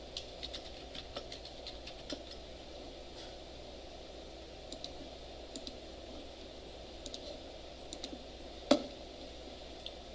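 A computer mouse clicks sporadically in a quiet room, faint sharp ticks spaced irregularly with one louder click near the end.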